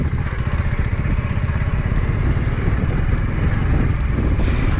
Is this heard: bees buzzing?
no